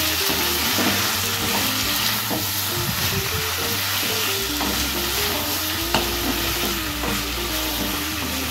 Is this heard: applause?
no